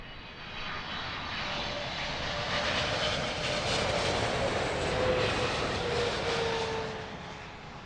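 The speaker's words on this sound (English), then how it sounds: "So we're going to stay with this British Airways A380, as I said, inbound from Washington" British Airways Airbus A380 inbound from Washington to Heathrow Airport, a loud, continuous jet engine roar with a rising whine that swells toward the middle and then tapers, with no talk over it.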